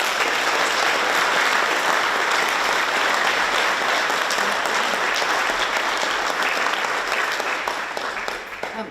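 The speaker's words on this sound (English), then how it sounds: "Big round of applause." Audience applause at a Launceston talk event, a steady, dense wash of clapping that holds for the whole stretch and eases slightly at the close.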